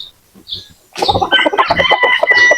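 Native chickens cluck and squawk at close range during feeding time, a few faint calls at first, then a loud, busy, overlapping chorus of clucks and cackles filling the last second and a half.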